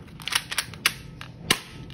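An M-11 airsoft toy gun fires pellets in a few sharp, snappy pops spaced irregularly over a couple of seconds, close and fairly loud above a low background hiss.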